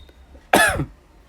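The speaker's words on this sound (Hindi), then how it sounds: "मुझे तो देख ही रहे हो, थोड़ा बहुत खांसी आती ही रहती है।" A single sharp cough from a man teaching a lesson, close and loud, coming after a quiet moment and fading quickly into silence.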